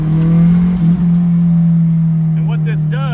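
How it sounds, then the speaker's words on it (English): A built Honda F24 engine being broken in holds a steady, loud drone with light throttle blips in the same gear, running continuously up close while a person talks over it. "So you're giving a light throttle, get up in the RPM, and let go of the throttle, and we're staying in the same gear"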